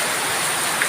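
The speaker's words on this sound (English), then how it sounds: "A lovely bit of rain, guys. You can't beat it." Steady rain pours down on a rainy afternoon in the Philippine countryside, a dense, even hiss of drops on surfaces filling the whole moment, loud and close with no other sounds.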